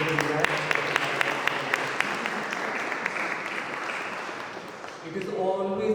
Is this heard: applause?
yes